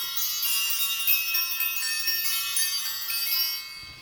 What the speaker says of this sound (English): I would like to ring the bells and create some sacred space around this reading.